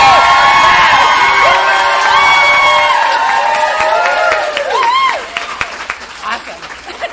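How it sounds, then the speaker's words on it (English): A panel audience claps, cheers and whoops loudly, with shrill excited shouts rising over dense applause before the noise drops off and scattered claps trail away. "don't be afraid to clap loud"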